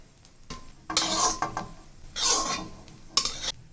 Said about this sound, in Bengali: এইবার এর মধ্যে ডিমের অমলেটটা মিশিয়ে দিচ্ছি